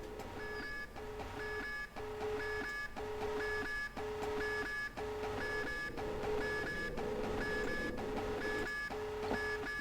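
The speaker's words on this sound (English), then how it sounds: "Suddenly, the interior alarms on the ship ring out." Ship interior alarm from a tabletop sci-fi game session: a repeating electronic beeping tone, steady pulses roughly every half second over a continuous low hum, loud and close, no voices.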